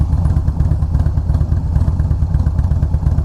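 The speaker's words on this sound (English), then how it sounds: "even the idle is a lot louder. It's just deeper" Harley-Davidson Fat Boy S fitted with a Vance & Hines slip-on exhaust, idling with a deep, loud, lumpy low rumble that pulses steadily and up close.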